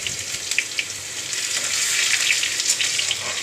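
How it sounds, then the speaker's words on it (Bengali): Crushed garlic sizzling in hot oil with bay leaves and whole cumin, a bright steady fry with small pops and crackles, close and fairly loud with no talk. "রসুনটা একটু ভাজা হবে।"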